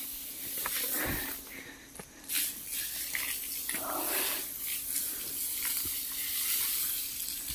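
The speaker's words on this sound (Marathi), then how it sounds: "इकडे पाणी मारतात," Water sprayed in a village yard, a steady hiss of spray running throughout at moderate distance, with occasional thumps and clatter mixed in.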